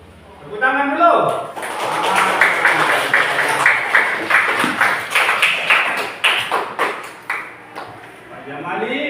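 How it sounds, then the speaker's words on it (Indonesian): A group of people claps hands in a classroom, a dense burst of overlapping claps that thins into scattered, rhythmic taps before fading, with voices talking at the start and end. "tepuk tangan dulu"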